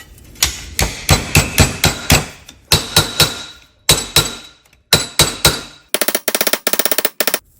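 Hammer blows straighten a small dent in an engine casing on a 1972 Kawasaki H1-B 500 triple, coming in sharp metallic bursts with short pauses, closing on a rapid run of lighter taps.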